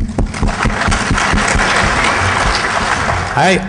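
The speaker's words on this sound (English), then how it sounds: "Everybody clap it up for Mudge" A conference crowd at DEF CON 18 claps loudly and continuously for several seconds, dense applause filling the space, with a voice rising briefly near the end.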